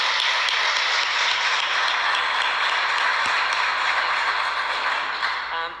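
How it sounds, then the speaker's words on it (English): Audience applause for the Secretary of Education at a state representative's swearing-in ceremony, a dense, steady wash of many hands clapping throughout that tapers slightly at the very end. "So can we please applaud and thank the Secretary of Education?"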